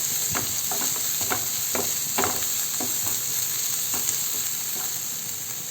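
Drumstick leaves with pepper powder being stirred in a hot pan: a soft continuous sizzle under repeated scraping strokes of a spoon, close and steady.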